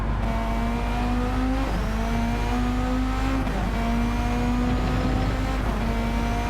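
Race car engine in Gran Turismo 7 at Bathurst, a sustained loud drone with rising pitch through the gears and several brief dips at each shift, steady and near throughout with no talk.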